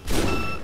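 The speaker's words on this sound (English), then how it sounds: "I found a shotgun. I gotta try it." A shotgun blast in the zombie survival game Project Zomboid, a single loud boom that hangs and decays over most of a second, heard alone.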